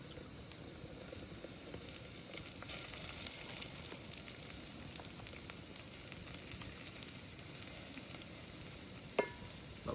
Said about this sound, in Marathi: आपण टॅमॅटो टाकून घेऊया